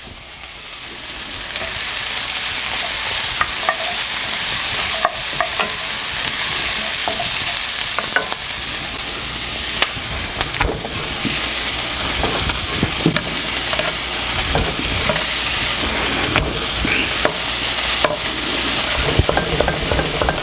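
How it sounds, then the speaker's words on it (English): Onions, garlic and chopped carrots sizzle steadily as they are fried and stirred in a pan, with a continuous hiss broken by frequent scrapes and clinks of a utensil against the cookware, and no talking throughout. "I'm going to go ahead and throw my carrots right on in."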